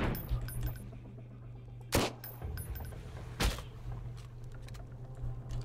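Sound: gunshots in the video game Sunkenland

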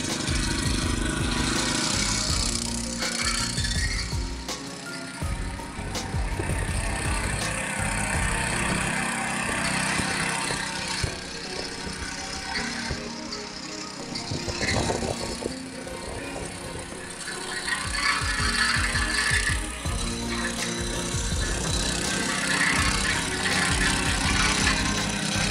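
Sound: Magnus BKM-8/1000 petrol cultivator engine running

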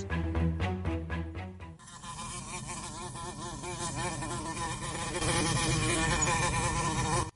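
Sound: wasps buzzing outdoors

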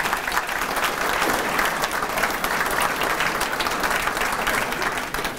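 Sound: audience applause for wait and kitchen staff

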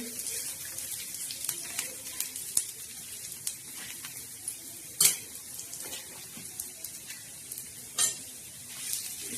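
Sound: black masala spices being dry-roasted and stirred in a pan

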